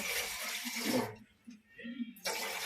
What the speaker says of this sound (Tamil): ஒரு சொம்பு தண்ணி ஊற்றிக்கிறோம்